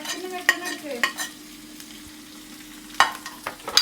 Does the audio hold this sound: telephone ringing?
no